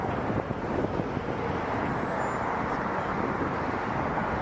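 A Jazz Dash turboprop landing on runway 23 at Toronto Pearson, heard as a steady broadband engine roar with wind buffeting, distant and even throughout, no voices.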